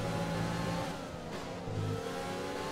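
Formula 1 cars racing on the opening lap, a steady high engine whine with shifting pitch bands, moderately loud and continuous with no voices.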